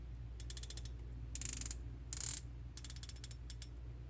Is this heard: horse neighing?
no